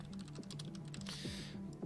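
Computer keyboard typing during a Pirate Galaxy match commentary, with steady rapid keystrokes clicking close by throughout, over a faint background hum and music.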